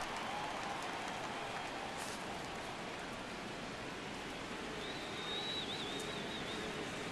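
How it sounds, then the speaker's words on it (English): Stadium crowd noise in the MLB The Show 17 baseball game, Cubs versus Yankees, a steady broad roar that swells as fans rise for a full 3-2 count, continuous and moderately loud with no talk. "Crowd gets up for the 3-2."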